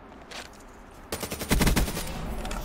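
Rapid automatic gunfire from the Peacekeeper DLC weapon in a video game, a light burst first, then a sustained loud stream of fast shots.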